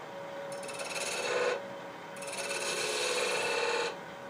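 A cutting tool scrapes against a wooden shawl ring spinning on a lathe, two rasping passes of about a second and nearly two seconds, bright and close, with a quiet lathe hum between them.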